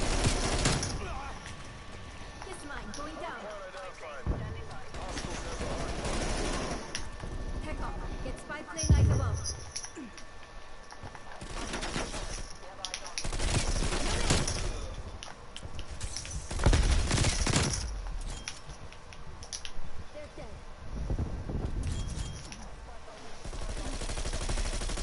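Bursts of automatic gunfire from the video game Call of Duty Cold War come in scattered volleys over about 25 seconds, mixed with game effects and a player talking throughout.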